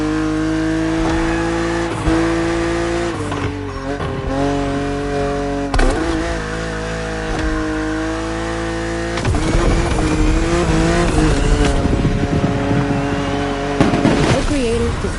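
A BMW in the racing game The Crew Motorfest drives along an open road, its engine droning steadily with gear shifts and rising revs, loud and close, with a voice speaking over parts of the drive.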